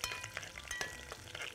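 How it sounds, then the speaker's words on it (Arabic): Garlic and black pepper fry in a pan with a close, crackly sizzle, broken by quick bursts of spattering and light stirring scrapes. "خلي الثوم يتحمر الأول"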